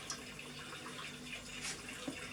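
Hot liquid parkin mixture with sugar pours steadily into a bowl, a soft continuous trickle and splash heard close and fairly quiet, with no talking.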